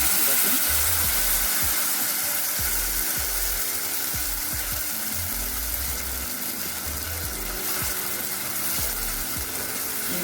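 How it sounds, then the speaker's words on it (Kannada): Steady sizzling of garlic frying in oil fills the whole stretch, a constant hiss with a low rhythmic hum beneath, close and even in loudness. "ಇಷ್ಟು ಫ್ರೈ ಆಗೋವರೆಗೆ ಬೆಳ್ಳುಳ್ಳಿಯನ್ನು ಫ್ರೈ ಮಾಡ್ಕೋಬೇಕು"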